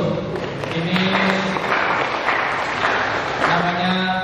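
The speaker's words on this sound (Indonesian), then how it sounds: "Tepuk tangan dulu." Applause from a gathered group, clapping in uneven bursts close by, mixed with loud voices and low sounds that cut in and out over the whole stretch.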